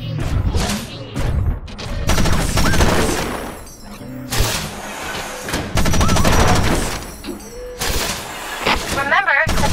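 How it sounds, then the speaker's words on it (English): Machine gun fire at pop-up targets in the mecha shooter Front Mission Evolved, loud rapid bursts and booming impacts over game effects, with a voice talking at points. "Remember to fire your machine gun in bursts to avoid overheating."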